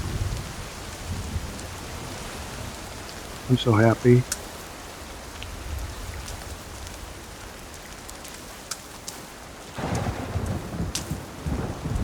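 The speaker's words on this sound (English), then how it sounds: "Oh, it's raining." Rain patters steadily in the survival game Sons of the Forest, on hard survival mode, with a brief burst of thunder and a swell of heavier rain near the end, while a voice speaks briefly over it.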